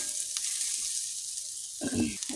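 Fried potatoes go into a pan and are stirred, giving a soft, steady sizzle with a couple of scraping stirs, the second louder near the end, fairly quiet and close.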